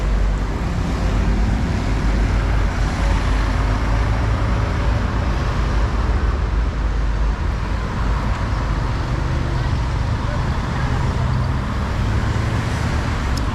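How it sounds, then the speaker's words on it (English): Road traffic in Albania rumbles in a continuous, loud wash of engine and tire noise, steady throughout with no clear breaks or distinct passing vehicles. "You can hear me over all the traffic."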